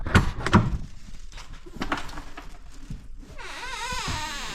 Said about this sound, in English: throw that door open, just get a little easier to get in and out here.